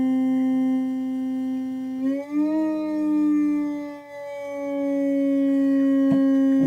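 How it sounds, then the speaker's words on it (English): A synthesizer oscillator with its frequency patched to a looping ADSR envelope generator produces a loud, steady buzzy tone with rich harmonics that bends in pitch and dips a few times before settling back, with no speech. "patched into the frequency on the oscillator with this envelope generator."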